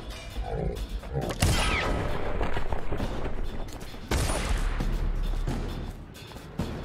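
Gunfire strikes the player in Dishonored during a high chaos run at the House of Pleasure, sharp impacts and crashing shots breaking out in two loud bursts amid background noise.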